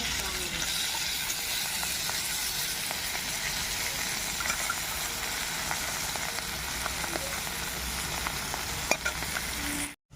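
Fish frying in a pan gives a steady, close, dense sizzle and crackle that holds at an even level for about ten seconds, then cuts off abruptly.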